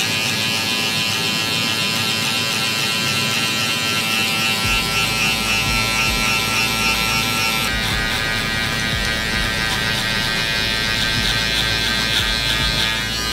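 Electric hair clippers fitted with a number 3 guard, lever closed, cutting a man's hair: a loud steady close buzz that runs without a break and shifts in tone partway as the clipper moves through the hair.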